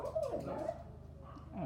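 Pet dogs give a brief, muffled yip and whimpering bark indoors, quiet and close, lasting only a moment.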